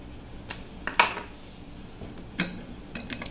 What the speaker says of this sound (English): We're going to cut us a thin slice of lemon for the top